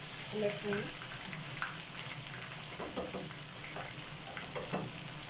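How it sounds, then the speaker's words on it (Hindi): Fish pieces fry in a pan with a steady, close crackling sizzle that runs the whole time, while a faint voice murmurs briefly near the start. "इसी तरह मैं सारी फिश को अच्छे से पका लूँगी"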